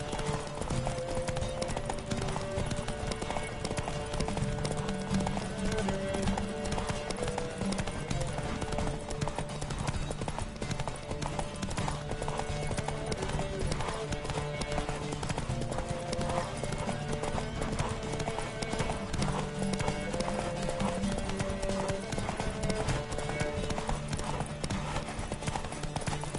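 Horses gallop in a race in the video game The Witcher 3, a dense, rapid clip-clop of hooves running continuously and loud, with occasional whinnies and background voices mixed in.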